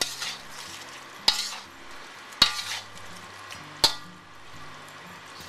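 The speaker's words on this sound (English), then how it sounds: "I'm going to add in about half of those green onions that I'd cut real fine. And stir it up again." Braised chicken with finely cut green onions is stirred in a pan over a soft sizzle, with three sharp utensil scrapes against the pan spaced about a second apart.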